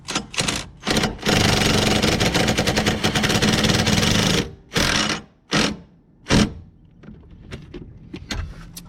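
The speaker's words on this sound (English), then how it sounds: "Mine's getting a little snug, so I'll put the wrench on her." A power wrench rattles loudly on a bolt of a Corvette C7, a sustained buzzing burst of about three seconds followed by several shorter bursts, close and alone.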